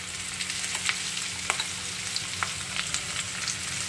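Chopped onion and turmeric powder sizzle steadily in hot oil with kalonji seeds, a close, continuous crackle dotted with small pops and spatters, and no voices.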